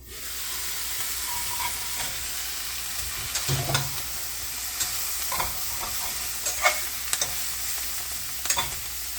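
Garlic fries in a pan with a steady low sizzle, and occasional soft clicks and scrapes of stirring come through without speech.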